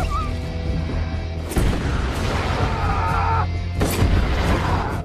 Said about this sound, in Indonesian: mulai meledakkan jebakan yang sudah dibuat